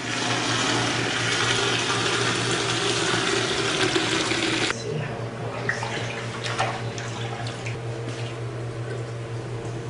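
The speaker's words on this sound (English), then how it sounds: "I gently pour the whey off the curd." Sheep milk whey is poured off the curd in a steady, close liquid stream that cuts off midway, leaving softer trickles and drips in a quiet dairy room.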